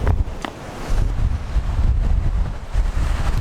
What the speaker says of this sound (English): Well, it's fucking windy anyway.